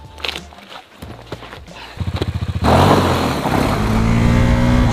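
A KTM Duke 390 motorcycle on the move, with a rhythmic pulsing engine beat that builds, then a loud, sustained engine and wind roar as the bike accelerates.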